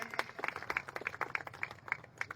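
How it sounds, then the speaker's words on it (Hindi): Faint, scattered hand clapping from a small audience at a Navalgarh BJP foundation-stone ceremony for a health sub-centre, a sparse uneven patter of individual claps lasting a couple of seconds. "इनके लिए तालियां बजाते रहिए।"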